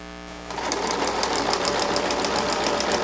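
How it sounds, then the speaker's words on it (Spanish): A sewing machine runs a zigzag stitch around a blouse hem, starting up and settling into a fast, steady, even whirring rattle close by, with no speech. "Y nos vamos a hacer el zigzag del vuelo de la blusa. Todo alrededor."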